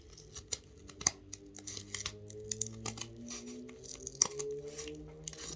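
Scraps of drink coaster material are cut along a marked line with a quick series of crisp, close snips at an uneven rhythm, each one short and sharp, with no talking.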